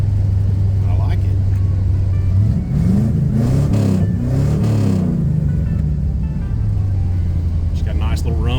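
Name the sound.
car engine revving through DIY dual exhaust mufflers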